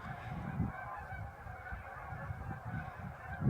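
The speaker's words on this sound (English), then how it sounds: "You'll see a lot of Canadian geese, and then you'll see some snows." A flock of Canada geese on a riverbank honks continuously during migration, a busy overlapping chorus of calls at moderate distance with no talk.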